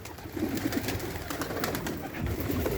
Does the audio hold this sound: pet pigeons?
yes